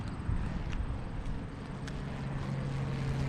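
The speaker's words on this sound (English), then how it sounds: "There's a plane coming in. Let's watch it land." A plane touching down on an airport runway, heard from the end of the strip as a steady, fairly loud low engine drone with a sustained hum and broadband rush throughout, no voices.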